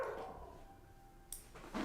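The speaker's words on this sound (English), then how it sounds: "Oh, my dog's kicking off." A dog barks and yips a couple of times in a room, faint and somewhat distant, with no talking.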